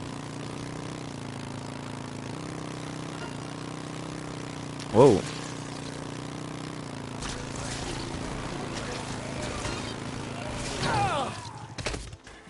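A motorcycle engine in the video game Dead Rising Deluxe Remaster idles with a steady low hum, broken by a sharp bump and a brief surge near the end, while a player talks over it.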